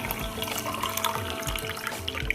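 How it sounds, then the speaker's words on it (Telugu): Water pours steadily into a pressure cooker pot on the stove for steamed jaggery dumplings, a continuous splashing gurgle with no talking. "పొయ్యి మీద కుక్కర్ గిన్నె పెట్టానండి, వాటర్ పోస్తున్నాను"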